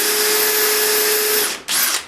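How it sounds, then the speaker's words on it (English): A 7/64 drill bit driven by a power drill bores down through the wooden floor of a homemade pull-behind camper, a loud steady whine that stops briefly, then spins up again in a short second burst. "So then I took this drill, 7/64, drilled down through here,"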